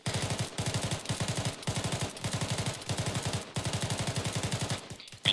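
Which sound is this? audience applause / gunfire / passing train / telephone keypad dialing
gunfire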